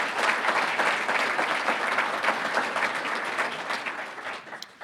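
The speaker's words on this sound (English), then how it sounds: "deserve to give yourselves a round of applause for that." Audience applause at the 2019 Roseville, California State of the City address, a dense, sustained round of clapping from a large crowd that stays loud and then gradually thins toward the end.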